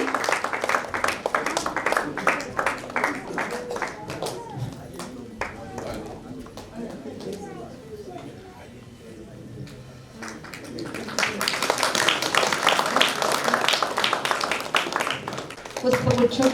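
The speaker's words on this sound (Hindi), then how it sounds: "आप सभी ताली बजाकर उनका स्वागत करेंगे, वेलकम करेंगे।" An audience claps to welcome guests onto the stage at a Mahashivratri festival gathering of the Brahma Kumaris in Indore. Sustained applause starts faintly and swells loudly toward the end, mixed with someone speaking over a microphone.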